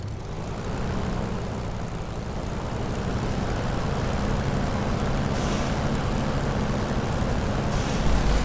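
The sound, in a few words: airplane engine taxiing on runway, from a video game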